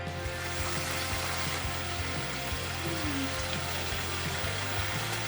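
Chicken karaage pieces hiss and crackle steadily in hot oil during the second fry, a dense continuous sizzle close by with no talk over it.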